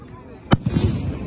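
A single sharp Fourth of July firework burst at an outdoor display in Old Natchez, a loud close crack followed by crackling rumble and echo, with people talking around it.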